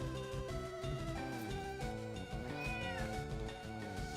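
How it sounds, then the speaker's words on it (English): A house cat gives a drawn-out meow, fairly quiet, set against steady tonal background sound with no talking. "Did you hear her nice big meow?"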